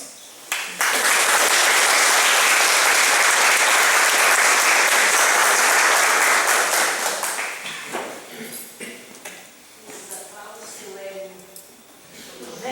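Sustained audience applause fills a lecture hall in Rio de Contas, loud and dense for about seven seconds, then thinning into scattered claps and murmuring crowd voices as it dies down.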